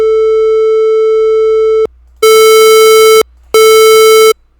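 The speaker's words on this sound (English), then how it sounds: "you can definitely hear between the square wave and the triangle wave" A steady synthesized waveform tone holds for about two seconds, then after a short gap two brighter, buzzier square and triangle wave tones sound in separate bursts, each about a second long.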